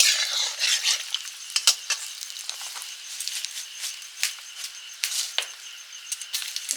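Sugar and dried red chillies sizzling in hot oil in a pan, a steady crackling fry with intermittent sharp pops and stirring scrapes, close and continuous with no voices.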